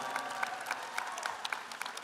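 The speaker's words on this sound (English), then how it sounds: "give the foundation a round of applause if you've ever been a benefit of the foundation" Commencement audience at Victor Valley College applauding the foundation, a steady mid-level wash of many hands clapping with scattered sharper claps across the whole stretch.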